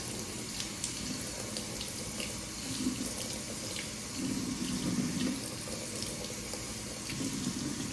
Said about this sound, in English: Rinse that off and rinse from the other side.